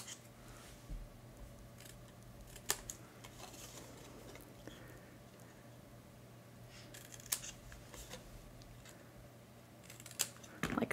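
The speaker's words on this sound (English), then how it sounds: "Now while we've got those isolated, I'm gonna come in and miter cut those tabs." Scissors miter-cut paper tabs on a craft card template, making scattered soft snips and clicks at irregular intervals over a steady low background hum, with no talk.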